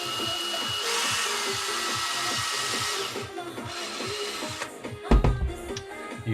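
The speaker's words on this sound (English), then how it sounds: "I've got these tungsten carbide little drill bits" A small tungsten carbide drill bit works on an airsoft hop-up unit, whirring in a steady high buzz for a few seconds, then stopping, followed by a few clicks and handling knocks close by.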